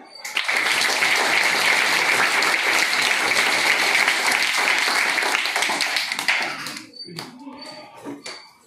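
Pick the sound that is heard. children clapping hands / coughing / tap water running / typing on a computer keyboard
children clapping hands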